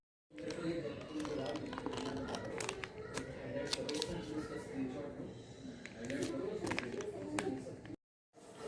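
Set chocolate being cut for a three-ingredient chocolate truffle recipe: a steady run of sharp, close cracking and scraping knife strokes, with voices talking over it.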